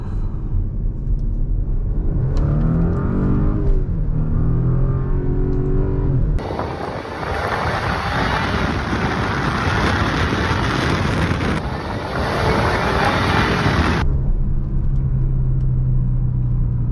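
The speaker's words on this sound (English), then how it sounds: "Can hear that supercharger wind up too" A supercharged Audi A7 with Quattro revs and accelerates hard with a rising rumble and a high supercharger whine winding up, then settles back to a steady drone.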